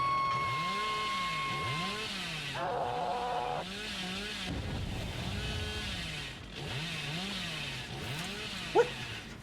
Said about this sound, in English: The only time I'll ever get a chainsaw.